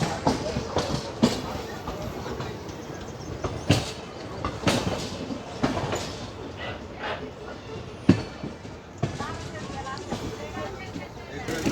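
A local passenger train, the Somnath passenger, runs along the rails of the Rajkot–Kanalus line with a steady rolling rumble and scattered clanks and knocks. Someone talks over it throughout.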